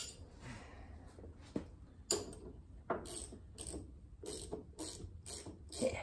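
A ratcheting gear wrench clicks in short bursts of rapid pawl ticks, close and fairly quiet, with pauses and a few clanks between strokes while working on an S10 truck build in a weld shop.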